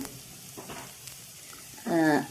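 Fennel and cumin seeds sizzling in hot oil and stirred, a soft crackle with brief scrapes, ending in a short louder burst of sound.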